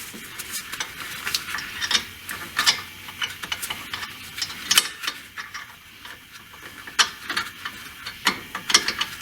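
A ratchet clicks in quick bursts while a nut is tightened onto a sway bar link of an Infiniti M35/M45, sharp close metallic ticks in irregular clusters with short pauses between.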